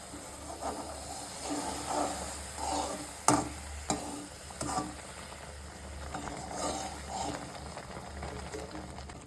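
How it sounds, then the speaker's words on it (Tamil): Water boils in a pot as roasted semolina is added and stirred for rava upma, a soft bubbling hiss with a few sharp clatters from a spoon or pan, close by, with some faint background voice. "இப்போ நல்லா தண்ணி கொதித்து வந்துச்சு. இப்போது நம்ம வறுத்து வச்ச ரவையை சேர்த்துக்கலாம்."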